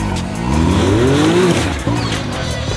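An off-road vehicle rock crawling at the Trail Hero event gives a loud, close engine drone that revs up and falls back, with people talking nearby.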